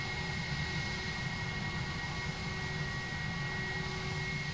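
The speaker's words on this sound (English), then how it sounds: "You may start engine" Airbus A330 jet engine spooling up in the X-Plane 11 flight simulator, a steady loud whine with a rumbling low roar and sustained tonal hum, continuous throughout with no talking.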